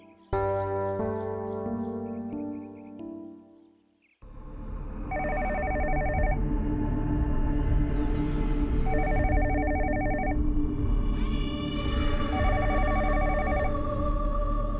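A telephone rings in repeated electronic trill bursts over a loud, dense background of music and noise in a TV drama, following a sustained tonal passage.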